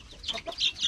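Native chickens clucking nearby on a farm, a short burst of a few soft clucks with no talking.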